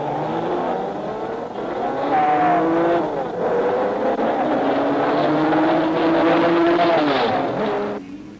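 Aston Martin DBR1 race car engines roar at the start of a 1950s race, the revs climbing and holding loud and close in a sustained howl over the crowd of cars before fading at the end.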